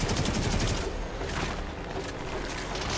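Rapid automatic gunfire from a boss fight in the video game Warframe, a dense, loud continuous burst of shots filling the whole moment with no voices.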